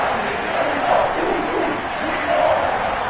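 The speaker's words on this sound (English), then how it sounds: "Crowd getting in it a bit already." Football stadium crowd roaring during a college game, a broad sustained cheer rising and swelling in waves from a distance, with commentary voices running over it.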